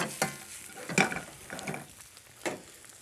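Quiet sizzling of corn in a pan with a few scraping stir strokes and light clinks, soft and close, no voices.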